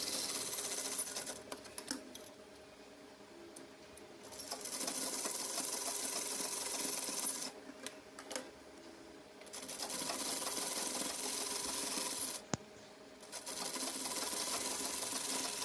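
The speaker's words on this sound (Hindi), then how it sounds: "अब इसके ऊपर हमें कॉर्नर पे दाब सिलाई लगा लेनी है ताकि हमारी लेस में फिनिशिंग आ जाए" A sewing machine runs in steady bursts, top-stitching lace onto a trouser bottom, its fast rattling interrupted by short pauses, close and clear with no talk.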